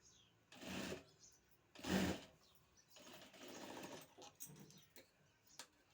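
A domestic sewing machine stitches a boat-neck blouse back neckline in short bursts, a few close, moderately loud whirring runs separated by pauses and small clicks.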